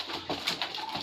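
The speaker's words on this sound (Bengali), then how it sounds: "দেখেন আমার লাল কবুতর" Red pigeons coo softly in a brief, low murmuring burst, faint and close, with light background noise.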